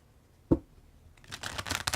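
An alien-themed tarot deck being shuffled by hand: one soft tap, then a quick, close rustling riffle of stiff cards that grows busier toward the end.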